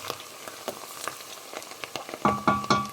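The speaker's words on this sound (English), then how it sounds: "you have to make sure the oil is nice and hot. And then just stir it." Chopped onions fry in hot oil in a pot as a spoon stirs them, giving soft crackling sizzle and scraping taps that get louder and sharper over the last half-second.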